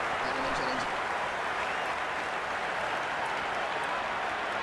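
A stadium crowd in the cricket video game Cricket 26 roars in a dense, continuous wash of cheering that holds steady and loud throughout.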